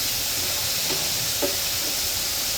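Food seasoned with black pepper, garlic powder, onion powder and cayenne sizzles in a pan, a steady loud hissing fry with faint crackles and no voices.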